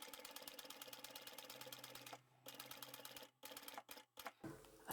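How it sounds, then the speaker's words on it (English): A sewing machine stitches a quarter inch seam on fabric in quick rhythmic bursts, the rapid needle clatter pausing briefly a few times before stopping, fairly quiet and close, with no talk. "I'm going to continue sewing until the next dot"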